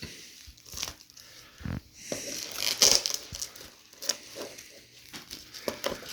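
Parcel wrapping being cut and pulled open by hand, with irregular crinkling, tearing and crunching of packaging in short bursts, fairly close and moderately quiet.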